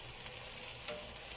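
Mushrooms and onions sizzle on a grill beside steak, a soft, continuous frying crackle that is faint and steady, with no voices.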